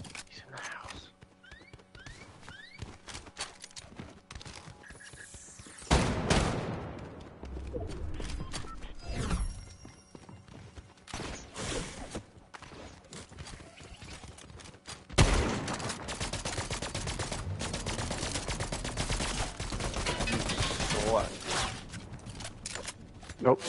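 Sniper gunfire in a video game arrives as sharp, loud shots, with two heavy bursts and repeated cracks across a long stretch, and people talk quietly throughout.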